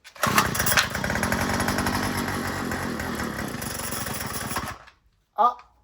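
A string trimmer's small two-stroke engine is pulled into a cold start on half choke and buzzes loudly for about four seconds before cutting out, then gives one short sputter near the end.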